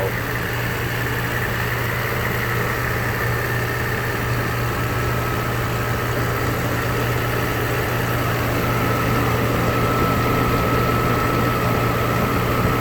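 With the hood open, a 1994 Mercedes-Benz S600 engine idles in a smooth, steady, low hum with a constant whine above it, heard up close and continuously with no speech.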